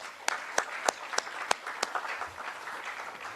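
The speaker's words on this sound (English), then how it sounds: "Let us give them all a round of applause." Sparse, scattered clapping from a small audience at a school cricket league event, with a handful of distinct sharp claps spaced out over a few seconds, fairly faint and thin.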